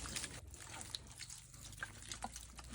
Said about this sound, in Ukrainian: Так, зальємо так водою.